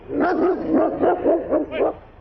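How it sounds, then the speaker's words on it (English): A dog gives a run of about five loud, close barks in a steady rhythm on a hostile homestead visit, each bark rising and falling with no talk over it. "The dog took a bite out of my coat"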